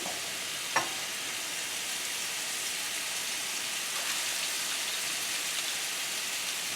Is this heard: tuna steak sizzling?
yes